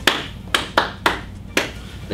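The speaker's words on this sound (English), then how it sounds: "They clap back twice." Sharp hand claps ring out in a comic movement class performance exercise, about six crisp, close claps in an uneven rhythm over two seconds.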